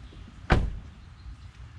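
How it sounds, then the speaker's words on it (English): A single solid thud of a door pulled shut in a workshop setting, one short loud impact that quickly fades into quiet room noise. "I'm gonna close this door."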